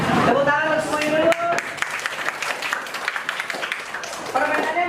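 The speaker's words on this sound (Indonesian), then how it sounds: "Tepuk tangan untuk semuanya dulu" Classroom students clapping their hands, busy, uneven clapping mixed with children's voices and a teacher talking over it.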